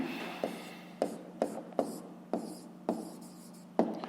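Pen strokes on paper while working a school math exercise, a series of about eight short, close scratching taps in an uneven rhythm over a faint steady hum.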